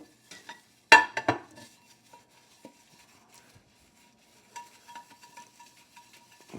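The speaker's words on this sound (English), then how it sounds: "I'm just going to scrub this pretty well" A dishwashing brush scrubs a soapy pan caked with dried-on food. Brisk, close scrubbing strokes with a clatter come in a loud burst near the start, then thin out to sparse, quieter rubs.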